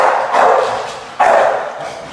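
An American bully dog barks during personal protection training, two loud, deep, close barks spaced about a second apart.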